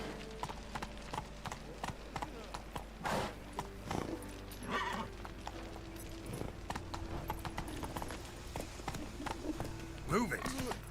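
Roach the horse runs in The Witcher, hooves clip-clopping in a steady rhythm close by, with occasional snorts while someone talks over the riding.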